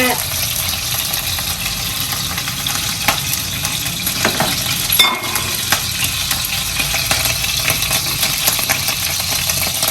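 Rendered fat fries in a pan with a loud, continuous sizzle and crackle, with occasional stirring scrapes throughout.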